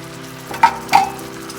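Butter and white wine go into a pan of frying shrimp, bringing a low steady hiss punctuated by two quick, loud splashing sizzles close together.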